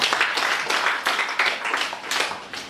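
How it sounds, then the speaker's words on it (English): Audience clapping for visiting guests at a school debate event, a brisk round of applause with rippling, uneven bursts lasting a few seconds. "A round of applause for our visitors."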